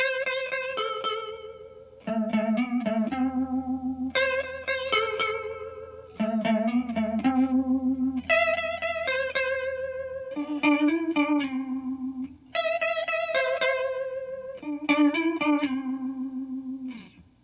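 Electric guitar played through a psychedelic chorus pedal, repeated chord phrases with a shimmering, wavering modulated tone over a steady low bass line, clear and alone.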